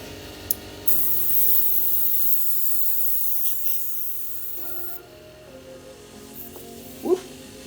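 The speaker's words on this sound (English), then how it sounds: "Let's grab our airbrush cleaner" Airbrush blowing out cleaner after Tamiya Flat Yellow paint work on a miniature, a steady hissing spray held for several seconds at close range, then a brief sharper burst near the end.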